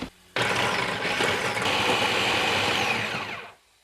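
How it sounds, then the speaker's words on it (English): A food processor whirs loudly and steadily for about three seconds as it chops cauliflower, starting abruptly and winding down at the end, close up with no talking. "I'm gonna give this a rough chop and then put it into my food processor"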